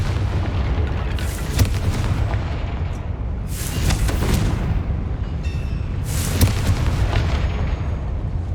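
Confringo fire blast spells explode in Hogwarts Legacy, several deep booming bursts with crackling bright tails spread over a loud, rumbling combat soundscape, no talking heard.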